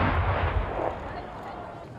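Explosive demolition of the Heusweiler radio transmitter masts in Saarland, 2018: a deep, loud blast rumble that starts at full strength and slowly decays into a low, fading roar.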